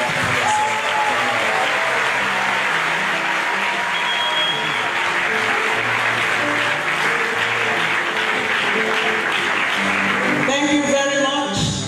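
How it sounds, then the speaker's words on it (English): Loud, sustained applause from an audience honoring a professor at an academic lecture, steady clapping filling the room for about twelve seconds with crowd murmur underneath. "a befitting thunderous applause for Professor"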